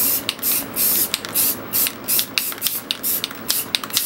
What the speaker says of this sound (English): Going with the black. Once again, lightly spray around the edges.